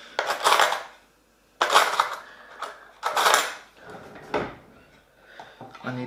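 Metal cutlery rattling and clinking in a kitchen drawer during a search for a teaspoon, heard in three loud bursts of jangling with softer clatters between, close by.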